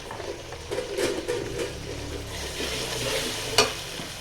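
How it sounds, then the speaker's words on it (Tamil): Ginger garlic paste frying with onions in a pan for a mutton cauliflower curry, a steady close sizzle with stirring scrapes and one sharp clink of a utensil near the end. "வதங்கின பிறகு பார்த்திங்கன்னா இஞ்சி பூண்டு பேஸ்ட்டு போட்டுக்கணும்."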